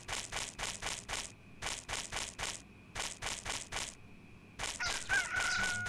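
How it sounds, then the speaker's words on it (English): Roosters crow repeatedly in the video game Chulip, in bursts of rapid cackling calls separated by short pauses, fairly loud and close, with no talk over them. "Oh, I heard the chickens."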